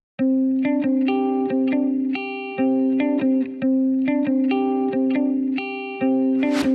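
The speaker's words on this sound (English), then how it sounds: "start the track with a simple guitar riff" A simple future bass electric guitar riff, distorted and chorused, plays a short repeating pattern of plucked notes, loud and upfront, ending with a noisy swell.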